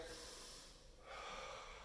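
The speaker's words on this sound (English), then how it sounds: "Deep breathing." Deep breathing during a foam rolling session, two long, close airy breaths, an exhale fading out and then a sharp inhale, with no other sound.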